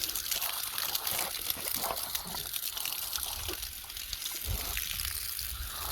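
Water from a hose splashes and trickles over an animal on a hot day at feeding time, a steady close hiss and spatter with no talking.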